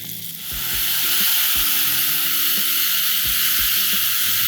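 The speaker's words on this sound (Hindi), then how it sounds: "कवर करेंगे और टमाटर को मसाले के साथ गल जाने तक पकाएंगे" Chopped tomatoes cook with spices in a covered pan for broccoli sabzi, making a loud, steady sizzling hiss throughout. Soft low tones sit beneath it and no voices are heard.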